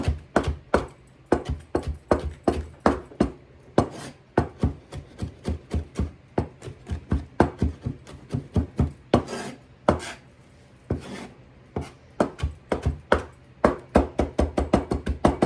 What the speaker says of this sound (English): So let me get it all minced up.